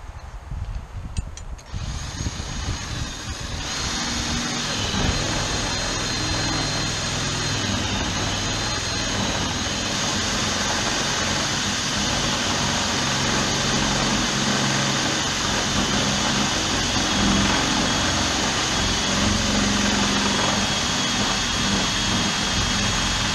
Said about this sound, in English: I'm just going back through with the bigger bit